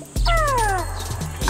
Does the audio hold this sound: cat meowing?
yes